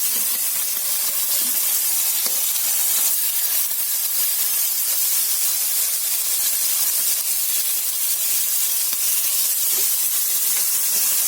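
Smoked pork belly slices searing in a hot casserole pan with olive oil, a steady close sizzle and hiss running unbroken throughout with faint ticks and pops.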